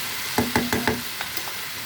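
Onion-flower vegetables salted and cooking in a pan, with four quick knocks of a utensil turning them, then a couple of softer taps over a low sizzle.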